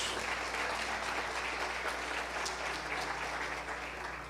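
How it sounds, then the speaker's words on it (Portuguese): Church congregation applauding during a Brazilian evangelical healing service, a dense, steady wash of many hands clapping that continues without a break, with faint murmuring underneath. "Pode aplaudir Jesus"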